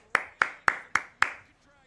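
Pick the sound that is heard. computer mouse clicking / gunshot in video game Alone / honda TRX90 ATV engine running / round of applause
round of applause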